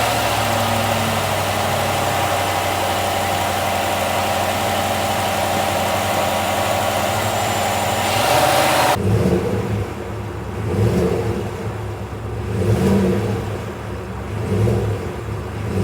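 A 2024 Cadillac Escalade's 6.2-liter V8 roars at a steady high pitch, then drops to a rumbling idle and is blipped through several throaty revs, loud and close.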